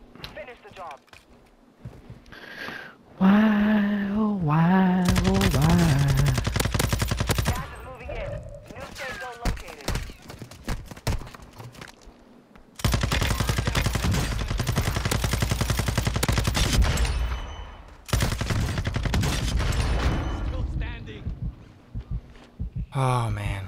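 Heavy gunfire from the video game Call of Duty Warzone 2, with loud, dense bursts of shots in several long stretches broken by quieter gaps, while voices talk over it.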